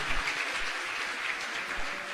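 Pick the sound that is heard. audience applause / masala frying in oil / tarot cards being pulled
audience applause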